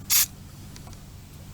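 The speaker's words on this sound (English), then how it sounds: "So let's spray out a little bit of dirt." A single short, sharp hiss of cleaner sprayed through a clogged carburetor hole, loud and close, followed by quiet room background.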